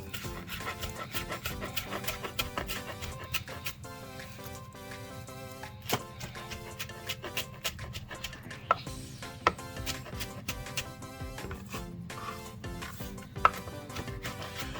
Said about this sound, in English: So I got some fresh basil. We're gonna chop this up.